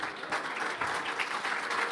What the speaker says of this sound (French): Je pense qu'on peut vous applaudir encore une fois.